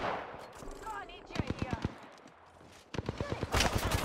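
Apex Legends gunfire arrives in quick rapid bursts of sharp shots, fairly close, with a short lull in the middle and a louder flurry toward the end, mixed with in-game voice chatter.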